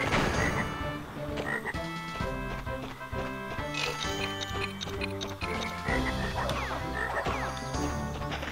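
Frog croaks from the Crash Bandicoot: Warped video game, heard within busy, continuous game music and sound effects at steady loudness with no talking.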